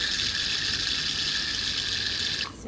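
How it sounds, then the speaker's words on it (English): Red wine poured through a sieve into a decanter aboard a yacht, a close, steady liquid stream with a bright splashing hiss that cuts off near the end. "Because I've got the sieve, I'm not concerned about pouring all of the wine in there."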